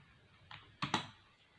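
Computer keyboard typing while writing in MS Word, three quick soft keystrokes in a short burst, close and quiet with no talking.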